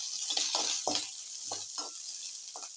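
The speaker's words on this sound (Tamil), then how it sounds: "ரெண்டு வெங்காயம் மிளகாய் இதில் சேர்த்துக்கலாம் இப்போ இது நல்லா வதக்கி விடுங்க" Crushed garlic, onion and chili sautéing in a pan for semiya upma, a soft constant sizzle broken by about six distinct scraping stirs of a spatula, close and fairly quiet, with no talking.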